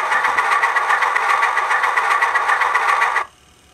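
A model locomotive engine sound from a LokSound decoder chugs at a steady rhythm, fairly loud and close, then cuts off abruptly near the end.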